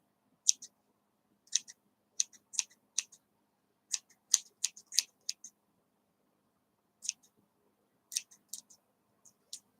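Scissors snip crochet yarn in a quiet room, a series of sharp, close clicks in small bursts with pauses between them.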